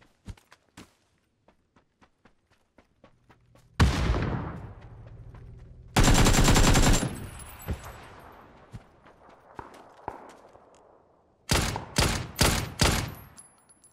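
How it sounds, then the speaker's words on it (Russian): Gunfire in an online shooter game using an AKM rifle: scattered single shots and footsteps, then several loud bursts of automatic fire and rapid close volleys, no talking. "По кому он стрелял?"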